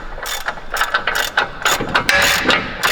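A ratchet clicks rapidly and loudly up close, tightening a nut during a lift kit install on an OBS Chevy truck, with bursts of ratcheting strokes across the whole stretch and no talk.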